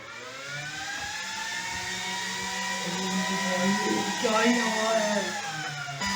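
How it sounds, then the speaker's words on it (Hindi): Heavy electric fans running on an all-in-one variable power supply produce a steady whirring hum with tonal motor whine that rises and shifts in pitch as the speed changes, loud and close. "बहुत तेज हवा फेंक रहे पंखे, बहुत हैवी फैन है। इनको चला के देखते हैं"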